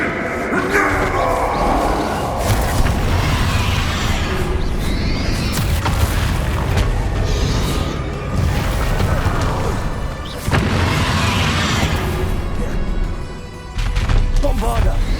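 Bombarda spell blasts in Hogwarts Legacy, a dense battle of booming impacts and crashes bursting over constant combat noise, loud and chaotic, with voices shouting through it.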